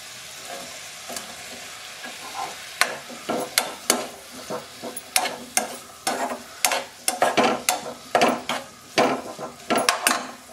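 Ripe jackfruit pieces being stirred into a coconut and jaggery filling in a pan on the stove, with a series of distinct scraping, clacking spoon strokes that grow busier and more rhythmic toward the end, close by with no talking.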